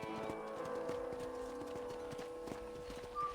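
Horse hooves clip-clop at a steady walking pace in a Red Dead Redemption game scene, close and distinct over a soft ambient bed with no talking.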